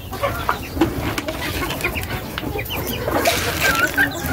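Hens cluck and murmur close by on a farm, with short chirping calls and scattered clucks over a busy, rustling background, moderately loud.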